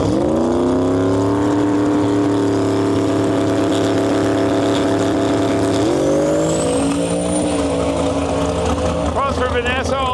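A nitrous Fox body and a turbocharged Mercury Marquis wagon launch off the line at a drag strip, engines roaring steady and loud for several seconds before the pitch shifts upward as they pull away, with an announcer talking over them.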